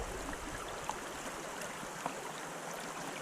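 Water swirls in a gold pan while blonde sand is washed off during prospecting in Virginia, a faint, steady trickling wash with a couple of soft clicks of material shifting.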